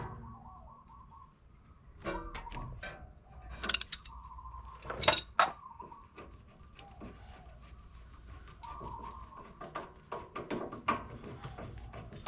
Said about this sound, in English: I'm going to be removing the inner tie rod with my pipe wrench.